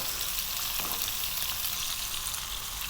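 Sliced red onion frying in a pan for pumpkin rice, a dense, even sizzle that stays loud and close throughout with no pauses.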